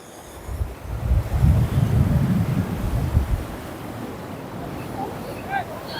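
Sea waves wash ashore at Parki sea beach in Chittagong, a low rolling surge mixed with heavy wind buffeting the microphone. It swells for a few seconds and then settles, with faint voices near the end.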